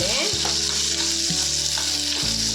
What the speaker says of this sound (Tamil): நல்லா வெங்காயத்தை வணக்க வணக்கி எடுத்துக்கலாங்க